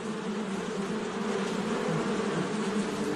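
Dense, continuous buzzing of many honeybees close by inside a hive, a steady droning hum without pauses or voices.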